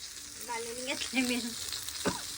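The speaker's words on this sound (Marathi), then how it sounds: "कौल फ्राय करायला घेतलाय पूजेने" Cauliflower frying in a pan for a family party, a steady broadband sizzle running throughout with brief stirring sounds and some background voices over it.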